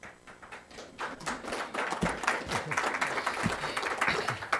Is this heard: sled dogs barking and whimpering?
no